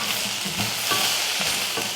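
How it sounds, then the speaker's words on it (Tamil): Bitter gourd sautéing in hot oil in a pan, a steady close sizzle with scraping, stirring strokes at an irregular rhythm and no talking. "அதனால நல்லா வதக்கி எடுத்துக்கோங்க"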